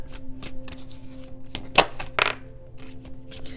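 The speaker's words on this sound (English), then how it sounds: "I'm going to shuffle again." Tarot cards are shuffled close by in quick riffles and taps, with a few sharper snaps of cards being handled.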